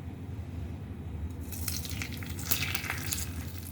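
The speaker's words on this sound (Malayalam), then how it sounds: "അപ്പോൾ നമ്മളുടെ എണ്ണ ചൂടായിട്ടുണ്ട്. ഇതിനകത്തോട്ട് നമുക്ക് 1 ടീസ്പൂൺ ചില്ലി ഫ്ലേക്സ് ഇട്ട് കൊടുക്കാം" One teaspoon of chili flakes drops into hot oil in a pan, and a bright sizzle bursts up and crackles steadily, close and fairly loud, with no one talking.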